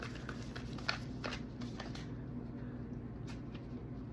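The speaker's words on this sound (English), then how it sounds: "These ones are really hard to shuffle." Quiet shuffling of a deck of stiff healing cards, soft riffling and sliding in short bursts, close and faint against a low steady background hum.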